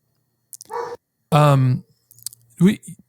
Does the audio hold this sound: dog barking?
yes